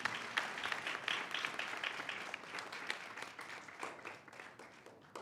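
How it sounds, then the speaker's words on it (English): Steady audience applause fills a hall at a birthday celebration for Swami, a dense, even wash of many hands clapping that holds at a moderate level throughout with no speech over it. "Please give a round of applause for Swami."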